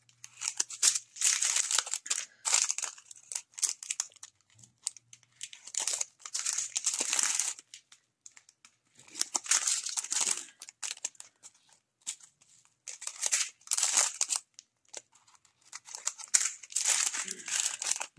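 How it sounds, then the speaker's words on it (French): Scissors cutting through large plastic packaging, with repeated bursts of crinkling and snipping in uneven clusters separated by short pauses, close and moderately loud. "les ciseaux, ils coupent bien"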